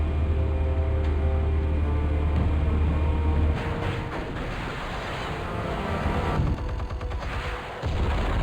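Explosives detonating in the Batman Telltale Series game: a deep rumbling blast fades into a broad, roaring wash of debris and noise, loud and continuous with no voices.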